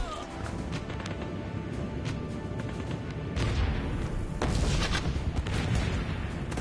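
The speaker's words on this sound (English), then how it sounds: "those mortars are kicking my ass right now" Mortar fire in a video game: repeated booming blasts and crashing impacts over constant battle noise, growing louder toward the end, with some voice in the mix.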